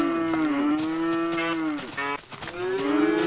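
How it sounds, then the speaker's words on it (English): Cows moo loudly and close by, two long drawn-out lowing calls with a short pause between them. "There's so many cows! Look at all these cows!"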